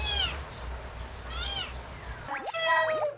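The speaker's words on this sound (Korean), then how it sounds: "그 와중에 새끼 울음소리를 들은 모양인데요" A young kitten cries beside its nursing mother cat indoors: a few drawn-out, high-pitched meows followed by quick, sharp squeaky chirps, loud and close, over a low background hum.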